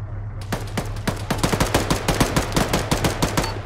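Rapid automatic gunfire in the ARMA 3 military shooter, a dense run of close, loud shots in steady rhythm over a low background hum, with no talking.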